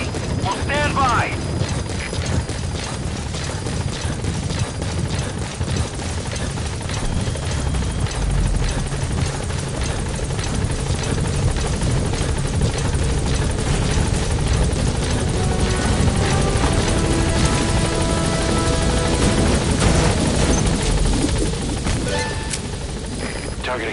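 A helicopter arrives at a landing zone in Metal Gear Solid V: The Phantom Pain, its rotor thumping loud and close in a steady churn with mechanical rattling, while radio voices talk over it.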